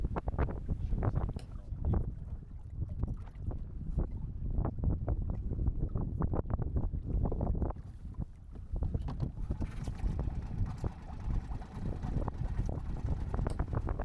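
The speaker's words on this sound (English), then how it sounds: "Now we need to start the engine." A small outboard-style engine on a Shrimper 19 sailboat putters steadily at low pitch, mixed with gusty wind buffeting the microphone and water sloshing around the boat.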